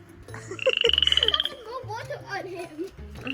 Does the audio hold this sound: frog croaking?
yes